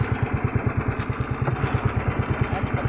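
A single-cylinder fishing boat engine chugs steadily, its rapid rhythmic thumping loud and close.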